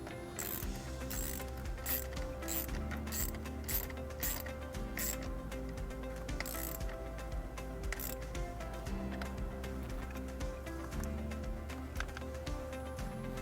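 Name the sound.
nut being tightened back onto car battery terminal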